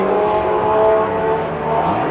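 A Cosworth rally car engine revs hard on a winter rally stage, a loud, close, continuous rasping roar that rises and falls as the car works through a figure-of-eight section, with no talking.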